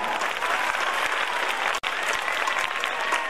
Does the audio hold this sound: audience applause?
yes